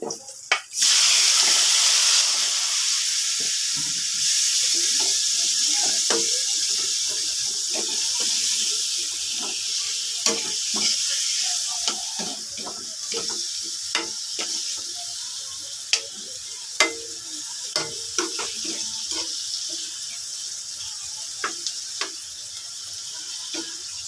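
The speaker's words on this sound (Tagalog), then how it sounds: "Bisahin ko po muna siya kasi medyo matigas po ito." Food sautéing in a pan gives a continuous close sizzle, strongest at the start and settling into a steady hiss dotted with small pops and ticks as it cooks.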